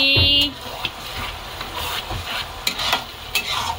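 Masala for a mutton curry frying and being stirred in a pan, a steady close sizzle with occasional scraping clicks, faint talk in the background.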